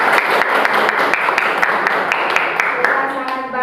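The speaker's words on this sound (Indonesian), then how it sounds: "Tepuk tangan sekali lagi untuk" Classroom applause for a student group after a discussion presentation, with brisk, loud clapping from a small crowd and a few sharp individual claps standing out as it starts to fade.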